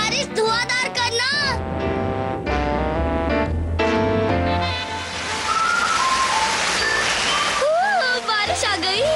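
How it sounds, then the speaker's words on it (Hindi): A steady rush of heavy rain in a cartoon fills the middle of the scene, mixed with music, whistling tones and a voice. "बारिश आ गई।"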